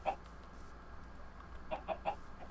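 Chickens in a Minecraft chicken shack give a few short, quiet clucks spread across the clip, bunched toward the end over a soft, steady background.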